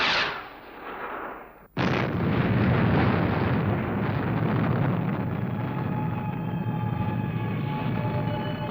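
Rocket engine ignites with an abrupt blast and then roars into a sustained, dense rumble of launch, loud and continuous, in a 1962 French-dubbed vintage television science-fiction series.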